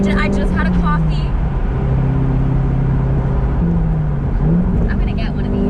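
A Corvette engine hums steadily from inside the cabin while riding, a constant loud drone with a faint shifting pitch, as people talk over it.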